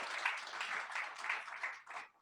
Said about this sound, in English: I think we should give this company another round of applause.